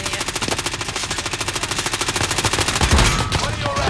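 Rapid automatic gunfire in a shooter video game, a steady, fast, evenly spaced stream of close shots lasting several seconds, with a faint voice beneath.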